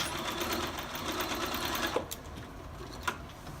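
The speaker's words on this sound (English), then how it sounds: "sew a 1/4 inch down, join my binding" A sewing machine stitches a quarter-inch seam to join binding on a quilted folded-star coaster. It runs as a steady, close mechanical whir, with a few light clicks near the end.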